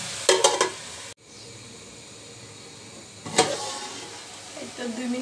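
Cabbage frying in a pan with green chillies for bhaji, a steady soft sizzle with a few stirring clatters and knocks at the start and midway, close by.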